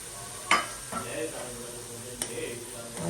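Semolina and raisins stirred in a pan over low heat, with a faint sizzle and occasional sharp clinks of the utensil against the metal, while someone talks.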